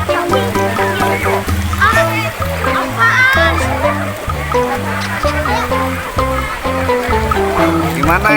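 A child splashes in a water-park pool at a Bogor Puncak resort, with short watery splashes under a constant wash of children's voices and background chatter.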